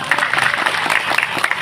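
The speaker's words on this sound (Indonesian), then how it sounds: "Tepuk tangan." Audience applause at a village Maulid Nabi commemoration, a brief burst of loud, close clapping from a crowd, dense and uneven with scattered voices under it.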